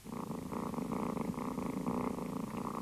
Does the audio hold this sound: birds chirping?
no